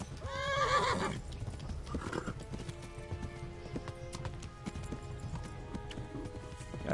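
A horse in the video game Kingdom Come: Deliverance whinnies loudly at the start, then steady clip-clop hoofbeats gallop along at a quick rhythm, with no talking.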